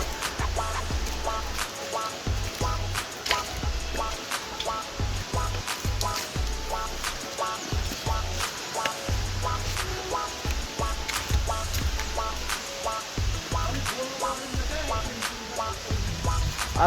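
Waterfall and stream rushing outdoors as wind blows, a steady broad roar with low gusty rumbles and scattered small splashes and clicks throughout.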